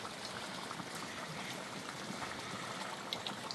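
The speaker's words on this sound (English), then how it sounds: "it's time for us to pour our prime oil" Palm oil poured into a pot of Liberian cassava leaf soup, a soft continuous stream of liquid with a faint trickling hiss, steady and close with no talking.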